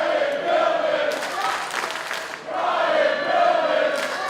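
A packed wrestling crowd in Norfolk at a VCW show roars and chants continuously, a loud dense wash of voices that dips briefly midway before surging again.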